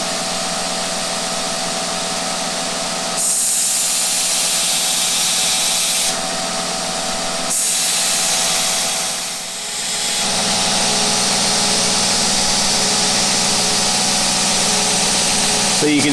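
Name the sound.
belt grinder convex grinding a parang blade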